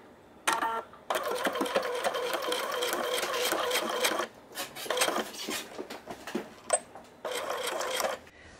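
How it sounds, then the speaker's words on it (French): A sewing machine stitching through thick fabric layers with the presser foot levelled by a shim, running in loud bursts of rapid mechanical whirring separated by short pauses and clicks. "l'idée c'est de mettre à l'horizontale le pied de la machine et du coup il va bien pouvoir passer les épaisseurs"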